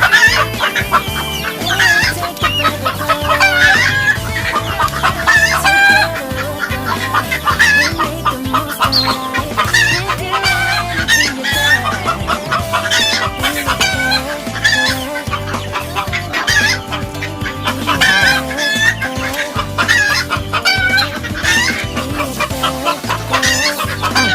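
Pet chickens cluck busily and roosters crow repeatedly in a lively backyard flock, loud and close, with overlapping calls throughout and no talking.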